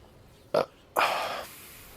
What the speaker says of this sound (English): Loud ass burp on stream.